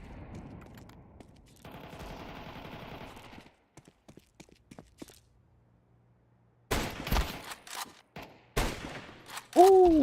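Gunfire in Counter-Strike 2 comes as sharp bursts of rapid shots, scattered at first and then heavier volleys near the end, separated by quiet gaps and softer game noises.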